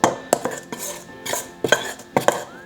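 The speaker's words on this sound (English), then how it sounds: "We're gonna mix these all together," Flour, baking soda and salt for Irish soda bread are stirred together in a bowl, a utensil clinking and scraping against the sides in irregular bursts of close, sharp taps.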